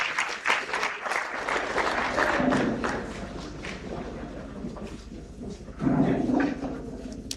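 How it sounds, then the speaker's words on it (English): An audience at a one-day government sector dialogue meeting applauds steadily, a dense sustained clapping that swells again near the end, heard at moderate distance in a large room. "Can we once more give her a round of applause for that?"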